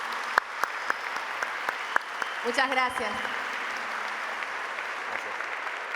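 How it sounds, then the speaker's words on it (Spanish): Applause from an audience at an interview on stage at the America Business Forum 2019, a steady wash of clapping with a few sharper claps standing out, briefly joined by a voice speaking over it. "Este aplauso es para vos."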